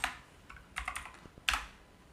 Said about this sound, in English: So I'm going to type this IP in my web browser.